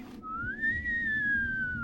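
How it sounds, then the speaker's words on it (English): Howling blizzard wind in the Tiny Bunny video game, a single long rising-then-falling whistle, loud and close over a low rumbling backdrop. "The blizzard whistled in unison with me, as if supporting my devilish plan."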